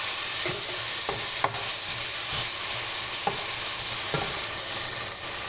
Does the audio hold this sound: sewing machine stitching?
no